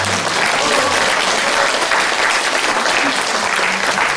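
An audience at a fashion show of women in extravagant hats breaks into loud, sustained applause, a dense, even roar of clapping from many people filling the whole stretch.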